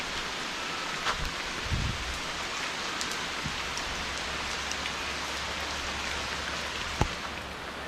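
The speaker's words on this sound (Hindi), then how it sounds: "नुकसान करके जाएगी बारिश, क्योंकि बिन मौसम आ रही है इसलिए" Unseasonal rain falling steadily outdoors, a soft continuous hiss of drops on surfaces with a low hum beneath and a few sharper drips standing out.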